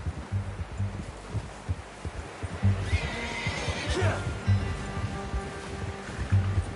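In Red Dead Redemption 2, a horse whinnies once midway through, over soft rhythmic low thumping and faint background ambience.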